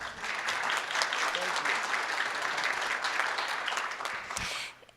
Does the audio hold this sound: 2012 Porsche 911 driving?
no